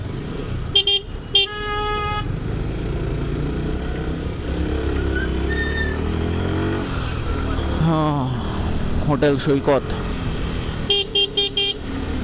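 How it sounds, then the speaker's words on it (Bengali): Busy Chattogram city street traffic near Reazuddin Bazar and New Market, engines rumbling and several sharp car horn blasts, short toots near the start and end, while someone talks over it. "আমার হর্নে একটু ডিস্টার্ব করতেছে"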